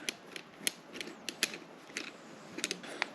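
Bolts being snugged up on a MaxxAir RV ceiling fan, a series of close, faint ratcheting clicks and small metallic creaks in short irregular bursts, with no talking.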